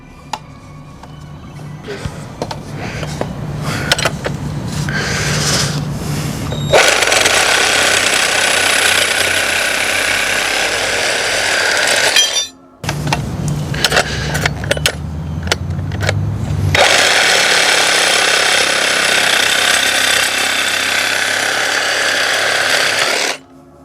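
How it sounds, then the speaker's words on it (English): A power tool saws through PVC pipe in two loud, sustained bursts, each led in by short mechanical clatter and rattling, with a brief pause between cuts and no speech. "So let's cut this pipe."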